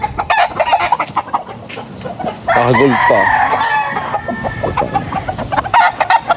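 Backyard chickens cluck and a rooster crows at close range on a rural farm, the calls loud and repeated while people talk over them.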